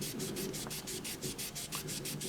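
An Infini sanding sponge rubbed by hand in quick, even back-and-forth strokes, a steady rhythmic scratchy swish repeating about five times a second, close and continuous.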